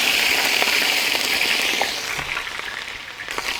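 Crushed ginger and garlic fry in hot coconut oil, giving a loud, close, steady crackling sizzle that eases slightly toward the end.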